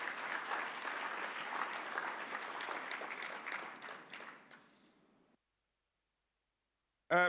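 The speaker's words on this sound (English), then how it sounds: "Please give them a round of applause." Audience applause at a conference closing ceremony, a dense wash of clapping from a seated crowd that fades out over about five seconds, followed by silence.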